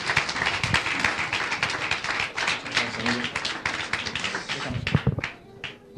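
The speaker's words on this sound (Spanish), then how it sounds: "Demos un aplauso para bendecir la vida de José." Church congregation applauds in a brisk run of dense, sharp claps that thins toward the end, with a speaker's voice faintly threaded through.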